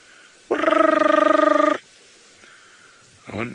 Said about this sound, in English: Oh, I can hear a type of rubber frog.